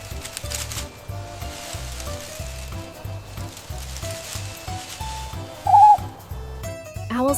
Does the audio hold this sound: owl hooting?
yes